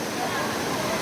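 The Bhivpuri waterfall roars as a constant loud wash of falling water, close and without a break.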